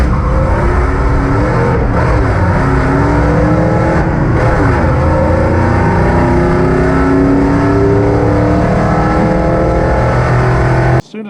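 A Jeep ZJ roars through a drag racing run at the zip tie drags in Tucson, its engine loud and close, revving and climbing through gears continuously for about eleven seconds before cutting off abruptly.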